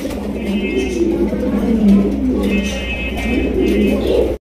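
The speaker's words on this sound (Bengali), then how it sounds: "এটা কিন্তু ডাউন শেপের বিউটি কবুতর, দেখেন কত সুন্দর" Beauty pigeons of the down-shape type coo in low, rolling phrases close by, with a person talking over the soft, steady calls.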